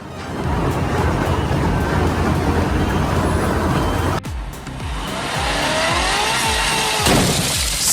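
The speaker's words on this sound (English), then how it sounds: "the front wheel burnout is brutal" Peugeot 306 doing a front-wheel burnout with a side-exit exhaust, engine screaming at high revs with a loud continuous roar and tire noise, a sharp break midway before the revs climb and fall again.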